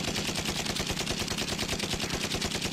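Rapid automatic weapon fire in a first-person shooter video game, a dense continuous burst of rhythmic shots at steady loud level, close and sustained throughout with no talking.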